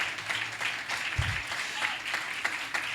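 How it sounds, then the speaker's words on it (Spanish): Congregation applause at a church service, a steady wash of many hands clapping throughout, fairly faint and even, with a brief low thump partway through. "Si le dan un aplauso, sabe que debe dárselo bien."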